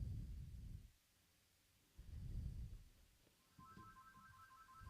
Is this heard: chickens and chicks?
no